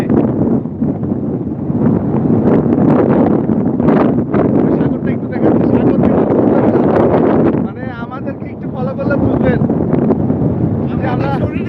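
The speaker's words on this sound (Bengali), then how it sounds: "প্রচুর বাতাস হচ্ছে" Strong wind blowing on the beach at Cox's Bazar roars and buffets the microphone in loud gusts that continue throughout, with voices heard faintly underneath.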